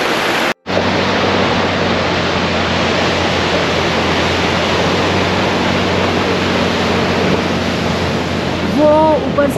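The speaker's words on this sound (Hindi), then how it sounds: "वो ऊपर से आबशार आ रही है, ग्लेशियर का पानी सारा" Waterfall of glacier meltwater pouring down into a mountain meadow at Michik near Kachura, Skardu, a steady loud rushing wash with a brief dropout near the start and a faint voice at the end.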